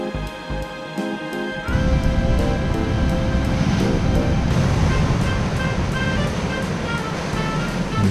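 Surf washes onto Secret Beach in a steady broadband roar that builds after a quieter opening, with a faint rhythmic ticking running through it and no talking.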